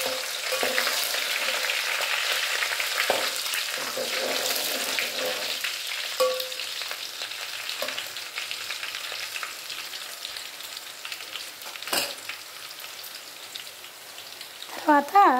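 Onions fry in hot oil for a ridge gourd biryani, a continuous crackling sizzle with occasional scraping stirs from a utensil in the pan, steady and close, with a few sharper knocks near the end.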